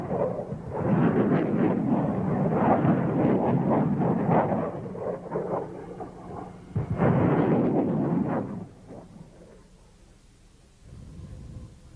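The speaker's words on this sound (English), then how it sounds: "As we see in this test footage, the small submunitions blanket a wide area." MLRS rocket submunitions going off across a wide area in military test firing, heard as distant rolling booms and crackling blasts in overlapping waves that fade to a quieter rumble.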